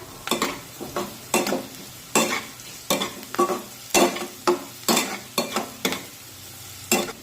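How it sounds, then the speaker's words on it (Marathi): Ginger garlic paste is sautéed with softened onions in a pan, with about a dozen regular, close spatula scrapes in a steady rhythm over a low sizzle and no talking. "आलं लसूण पेस्ट सुद्धा कांद्यासोबत परतून घेऊया।"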